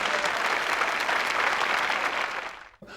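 A studio audience applauds on a late-1980s French television show: dense, steady clapping fills the room at full strength, then thins and fades near the end with a brief final burst.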